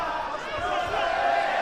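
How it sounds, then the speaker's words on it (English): Crowd at an IBA Champions' Night amateur boxing bout between Shohjahon Abdullaev and Enmanuel Reyes roaring in support of their fighter, a loud, sustained wall of cheering that swells slightly toward the end. "And now the crowd dialing up the decibel level in support of their man."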